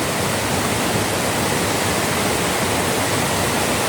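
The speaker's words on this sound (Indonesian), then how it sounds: "penampakan dari bendungan itu ya, aliran airnya sangat deras" Strong, rushing water flowing below a village dam, a steady broadband roar that stays loud and continuous throughout, with no voices.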